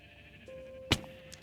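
A sheep bleats on a sheep farm in the video game Minecraft, a short, faint, nasal tone followed by a sharp click and a softer tick, with a quiet hum underneath.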